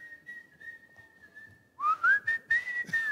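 A person whistles a wavering, sustained tune, faint and steady at first, then louder and sliding in pitch, alone without speech.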